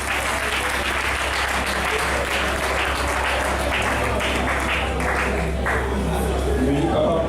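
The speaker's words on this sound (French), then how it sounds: "on applaudit pour ce geste quand même" Steady applause from a live audience in a family setting, dense and continuous clapping at close range with faint voices mixed in throughout.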